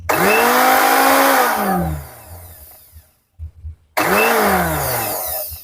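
A Philips blender motor spins up on speed setting 5 with a rising whine that settles into a steady loud whir, winds down to near silence with a few soft knocks, then surges back on just as strongly.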